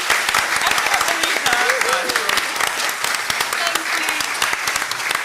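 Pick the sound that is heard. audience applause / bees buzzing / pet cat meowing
audience applause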